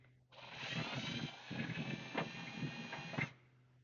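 A handheld power tool chamfers drilled holes in the steel frame of an off-road tow truck, a steady whining grind lasting about three seconds with a few short pressure surges, close and fairly quiet, with no talking.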